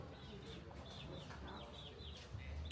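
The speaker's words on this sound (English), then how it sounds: "by the doors, and there's cockerels" A rooster clucks repeatedly by a doorway in Ho Chi Minh City, its short high calls recurring over a steady, busy street background with a little faint talk.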